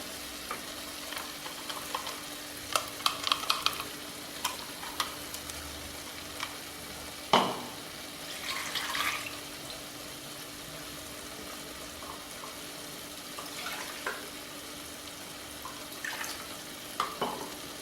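A ground spice paste for capsicum gravy sizzles in a hot pan while a utensil stirs and scrapes, with occasional light clinks; quiet and close, no talking.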